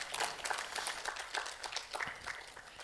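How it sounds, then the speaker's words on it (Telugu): An audience at a meditation gathering applauding the guru, a dense and continuous patter of many hands clapping at once, heard from a moderate distance with no speech over it. "వారికి ఒకసారి గట్టిగా చప్పట్లు"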